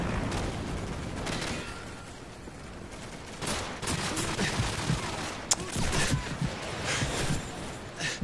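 Gunfire in the video game Call of Duty 4: Modern Warfare on hard difficulty, with scattered shots and rattling bursts that grow denser and louder in the second half, some sharp single cracks standing out.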